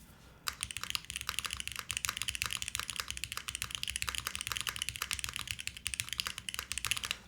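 Rapid, steady clacking of keys on a KBD8x MKIII aluminum mechanical keyboard, close and crisp, starting after a brief quiet moment and continuing as dense, even typing with no voices.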